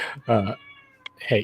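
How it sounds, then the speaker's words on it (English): A house cat meows loudly and repeatedly close by, in drawn-out wavering cries, while a person briefly speaks. "sorry about my fucking cat."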